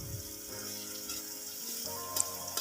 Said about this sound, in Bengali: এখন আমি কয়েকটা রসুন কুচিকে ভেজে নিব। এবং কিছু পেঁয়াজ কুচিকে